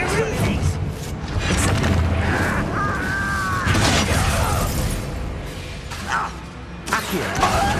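Confringo blasting spell explosions in Hogwarts Legacy, booming bursts and crashing impacts amid busy game combat noise, with shouted spell voices over the top.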